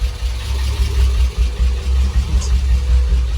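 Acura Legend coupe engine running at a low idle after sitting three years, a steady close rumble with a slight uneven pulse and no talking.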